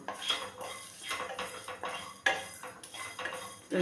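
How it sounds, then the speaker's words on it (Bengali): Coriander, cumin, fennel seeds and two dried chillies dry roasting in a pan, a steady busy clatter and scrape of a utensil stirring the dry spices against metal, close up, with no voice. "ধনে, জিরে, মৌরি আর সেই সাথে দিলাম দুটো শুকনো লঙ্কা দিয়ে আমি এবার এটা একটা একটু ভাজা মশলা একটা তৈরি করে নেব।"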